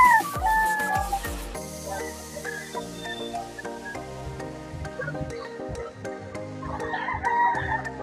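White-line gamefowl at a gamefarm booth during an IGF 2025 gamefowl expo crow and cluck amid a busy hall. Scattered bird calls overlap with a dog-like whimper and steady crowd murmur.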